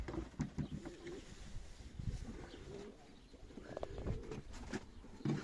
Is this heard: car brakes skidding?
no